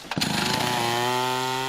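A chainsaw at a logging site in Ghana's Kade area starts with a sharp burst, then drones with a steady buzzing whine, close and loud, alone without voices.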